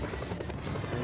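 A helicopter in the video game Just Cause 2 drones continuously, a dense rotor rumble and whine filling the whole short stretch.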